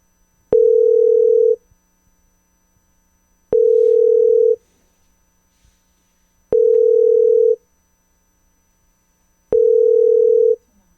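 A telephone line tone is heard while a call is placed: four evenly spaced steady beeps, each about a second long, separated by roughly two seconds of silence, loud and clear with nothing else present.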